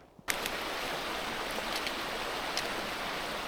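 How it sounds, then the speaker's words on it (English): Rocky Creek in the Canadian Rockies rushes in a steady, dense wash of flowing water heard up close, constant throughout with a few small splashes. "We just got to the main creek."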